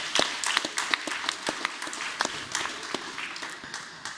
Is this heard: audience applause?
yes